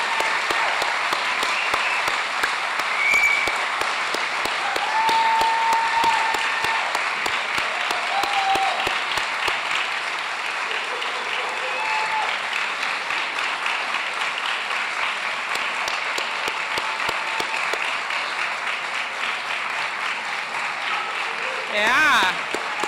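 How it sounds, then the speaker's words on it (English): Sustained round of applause from a seated crowd at a Doctor of Physical Therapy white coat ceremony, steady dense clapping that holds for about twenty seconds with a brief swell near the end. "Let's have one more round of applause."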